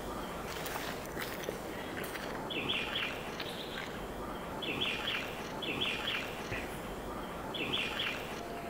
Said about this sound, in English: such a lovely bird.